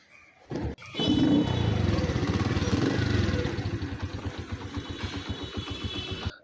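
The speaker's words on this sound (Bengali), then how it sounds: "দেখেন একবারেই শোরুমের বাইকের যে সাউন্ড থাকবে এই বাইকেরও সেম সাউন্ড থাকবে।" A well-kept used motorcycle kicks into life after a brief stumble, then settles into a steady, close idle with an even, rapid exhaust pulse that runs alone to the end.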